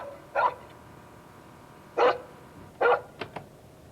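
A person imitates a dog barking with three short, sharp woofs spaced apart, then two quick faint yips, over a low steady room hum.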